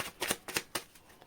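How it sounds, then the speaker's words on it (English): Tarot cards being shuffled by hand in a few quick riffling bursts, close and fairly crisp, with short pauses between them and no talking. "Let's do another shuffle."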